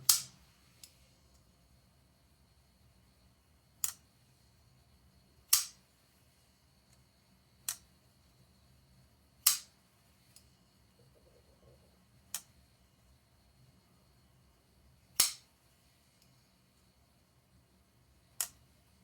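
Crisp snapping clicks of a Ferra Monster Urban Grip folding knife being closed, roughly eight separate snaps spread out with quiet pauses between them.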